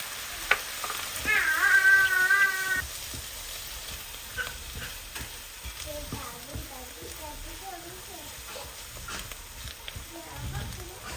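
Spam, garlic, onion and mushroom sautéing in a pan, a low steady sizzle with occasional stirring scrapes, while a voice and other faint vocal sounds rise over it in the first seconds and again later.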